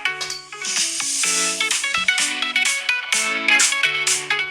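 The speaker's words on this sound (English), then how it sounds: "I'm going to play a track from my phone, put in full volume." A music track plays from a phone speaker at full volume, held close, with a bright, thin sound of melodic notes and percussion running continuously and no talking.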